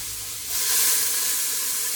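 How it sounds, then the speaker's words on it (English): Onions sautéing in a hot skillet give a loud, steady, close sizzle that rises sharply after half a second and keeps hissing evenly, with no voices. "now we're going to get our onions sauteed"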